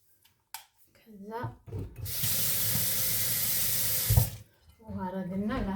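Tap water runs steadily into a cooking pot for a couple of seconds, a loud continuous splashing gush, with a person talking briefly before and after it.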